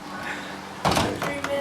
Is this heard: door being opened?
yes